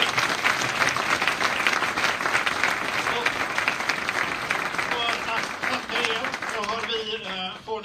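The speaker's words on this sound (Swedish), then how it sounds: "en stor, stor applåd" Seminar audience applauding on company culture, a dense sustained round of clapping from a roomful of people that thins out toward the end as a voice begins speaking.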